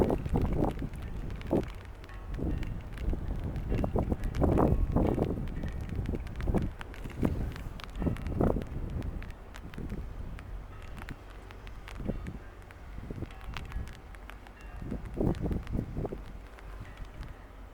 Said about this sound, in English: That will protect me from the wind and from the weather.